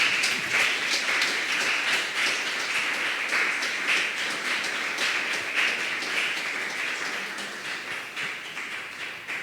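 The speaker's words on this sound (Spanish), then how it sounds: "Denle ese aplauso al Señor." Applause fills a church worship service, steady dense clapping from a congregation that stays loud and continuous throughout, with no talk over it.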